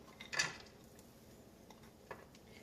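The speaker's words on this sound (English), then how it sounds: "I've got my pan here, and it's heating up on medium-high heat, and I'm just going to throw in my pecans" Pecans tossed into a pan heating on medium-high, a brief close clatter of nuts hitting metal followed by a faint second rattle, quiet otherwise.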